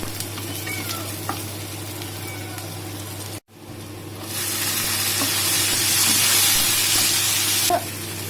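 Chopped tomatoes sizzling as they fry with onion and green chili, a soft steady hiss that cuts out briefly and then swells into a louder, brighter sizzle as they hit the pan.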